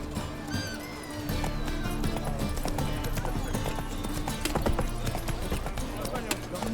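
Roach the horse gallops in The Witcher 3, rapid clip-clop hoofbeats running steadily throughout with an occasional snort, close and loud while someone talks over them.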